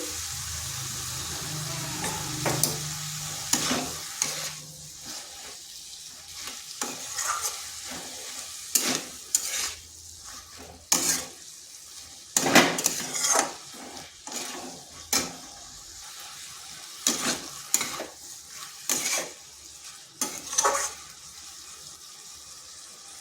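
Watermelon rind is stirred with spices and salt in a hot pan, giving repeated close scrapes and clatters of the spatula over a soft, continuous sizzle, in irregular bursts with no speech.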